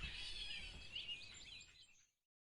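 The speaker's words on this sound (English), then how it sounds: "Baby chicks go cheep cheep and are fluffy like cotton." A baby chick cheeps in a continuous run of thin, high chirps, faint and close, fading out after about two seconds.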